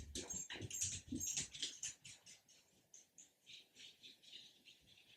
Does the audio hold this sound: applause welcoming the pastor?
no